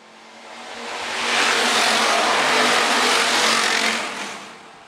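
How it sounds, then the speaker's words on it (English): IMCA Hobby Stock race cars accelerate out of turn four on a restart at Phillips County Raceway, a loud engine roar swelling as the pack passes close by, then easing slightly, with a hint of tire squeal and no talking. "the IMCA Hobby Stocks will lead us out of corner number four"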